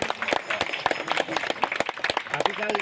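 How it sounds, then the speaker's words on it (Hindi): Audience at a Ganga Task Force tree-planting and cleanliness drive clapping, a brief burst of dense, close applause with a voice talking over it. "ताली बजा दीजिए।"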